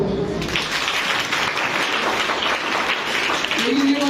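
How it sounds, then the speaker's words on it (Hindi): Students at a school session in Jharkhand clap for themselves, a dense sustained patter of many hands filling the room, with voices mixed in near the start and end. "अपने लिए ताली बजाओ।"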